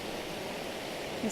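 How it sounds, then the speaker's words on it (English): A waterfall in Průhonice park rushes with a steady broadband hiss of falling water, continuous and moderately near, with a voice speaking briefly over it. "this waterfall"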